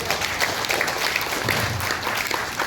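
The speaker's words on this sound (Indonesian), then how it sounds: "Tepuk tangan dulu untuk kepala lingkungan." An audience claps steadily throughout, a dense, close burst of applause with no talk over it.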